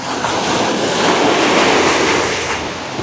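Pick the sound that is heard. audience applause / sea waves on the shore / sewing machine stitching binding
sea waves on the shore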